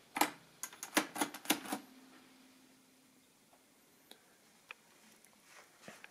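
A Burroughs mechanical calculator's mechanism cycles through its movement with a quick cluster of sharp, close mechanical clicks and clacks, then sparse, fainter ticks as the movement settles.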